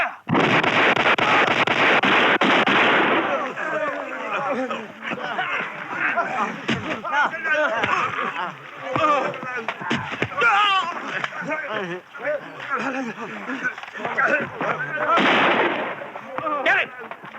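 Gunfire erupts in a film scene, a loud burst of rapid shots right after a shouted order, then voices and scattered firing continue, with another loud burst near the end.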